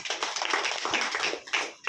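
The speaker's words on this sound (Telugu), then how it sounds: "బిగ్ క్లాప్స్ అండి" An audience at a business group meeting bursts into a dense patter of hand clapping, irregular and continuous for a couple of seconds, moderately close.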